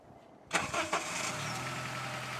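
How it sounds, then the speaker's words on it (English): An older Honda CR-V cranks briefly in snowy cold weather, then catches and settles into a steady, close idle after about half a second of silence. "Turn on the car."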